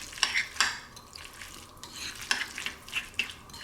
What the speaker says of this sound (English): I'm breaking up the tuna, mixing it nice and evenly in with the other ingredients